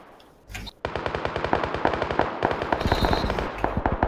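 Rapid automatic gunfire in PlayerUnknown's Battlegrounds, a dense burst of sharp repeated shots after a brief opening pop, loud and close, running almost continuously, no talk.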